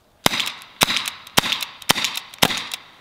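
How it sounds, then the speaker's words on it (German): An HDR50 paintball revolver fires six sharp, loud shots at roughly half-second intervals, each crack followed by a brief hissing tail of released gas, with no talking. "Du verwandelst dann deinen Paintball-Revolver in einen kleinen Karabiner"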